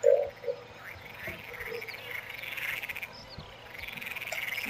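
Frogs croaking in Farming Simulator 19 during a wheat harvest, a continuous pulsing chorus of trilling croaks with a sharper call at the start, steady and fairly close.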